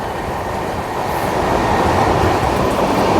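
A train rumbles past close by at a rail crossing, a heavy continuous roar and rattle of wagons that grows slightly louder across the few seconds.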